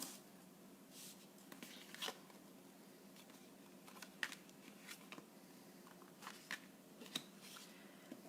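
Scored paper being folded and burnished for a craft, with faint, soft rubbing swipes and light crisp paper rustles repeating in short bursts, close and quiet.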